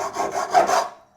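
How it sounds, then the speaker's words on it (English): Hacksaw cutting through the plastic bottom edge of an Echo RB60 spreader part, a steady rasping stroke rhythm for about a second, close and fairly loud, then stopping. "you can reach for a trusty hacksaw"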